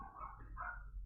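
A dog barks nearby in a home during a board game session, one muffled, drawn-out bark heard faintly from another room.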